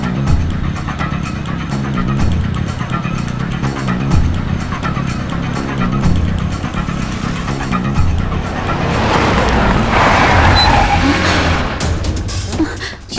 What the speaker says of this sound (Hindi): उसकी कार हमारे पीछे क्यों आ रही है?